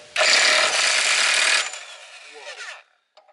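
A burst of an impact wrench loosening the rear hub nut on a Nissan 240SX drift car with a VQ35DE swap: a loud, steady rattling hammer for about a second and a half, then a quieter spinning rundown as the nut frees.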